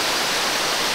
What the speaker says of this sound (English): the setting of this waterfall